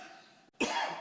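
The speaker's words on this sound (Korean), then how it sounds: "기침이 나네." After a short quiet gap, one close, throaty cough bursts out over faint room noise.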